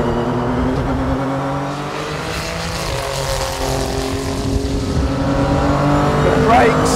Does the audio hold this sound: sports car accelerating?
yes